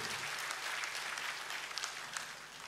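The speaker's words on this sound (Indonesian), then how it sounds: "Tepuk tangan buat Tuhan kita, haleluya." Congregation applause during a church sermon, a broad wash of clapping from a large crowd, fairly faint and distant, steady throughout.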